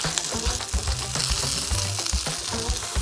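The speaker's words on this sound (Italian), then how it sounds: "lasciamo cuocere i pomodorini finché diventeranno un po' grinzosi" Red and yellow cherry tomatoes with sugar, salt and pepper cook in a pan with a loud, busy sizzle and crackle, and a few thumps and stirs come through over it.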